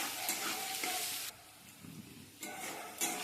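Potatoes frying in a pan with turmeric and salt crackle loudly as they are stirred, in bursts of sizzling and scraping that dip briefly midway, with no voices.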